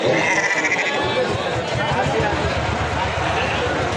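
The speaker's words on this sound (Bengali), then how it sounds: "ওগুলা কি ছাগল" Goats bleat repeatedly amid a busy livestock market at the Teberia haat in Natore, where pregnant does and mothers with kids are sold; the calls sit over constant loud crowd babble and talking.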